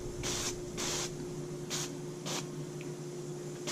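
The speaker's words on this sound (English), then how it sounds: "we put the top on and spray it with the cooking spray" Four quick bursts of cooking spray coat the top of a pizza quesadilla, each short hiss separated by brief pauses, close and fairly quiet with no one speaking.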